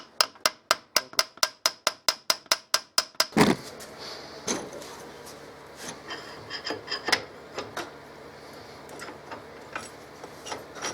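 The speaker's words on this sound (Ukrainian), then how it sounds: "легенькими ударами дерев'яним, мідним або резиновим молоточком" A run of about a dozen quick, evenly spaced light mallet taps on a 6R10 steering column console, then a louder knock followed by scattered irregular taps and scraping.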